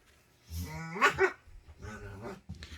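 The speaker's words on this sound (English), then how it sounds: "oh, puppies are playing." Puppies playing nearby, letting out short yappy barks and rough growls in two bursts with a brief gap between, fairly loud and close, with no talk over them.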